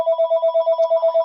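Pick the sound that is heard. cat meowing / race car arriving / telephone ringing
telephone ringing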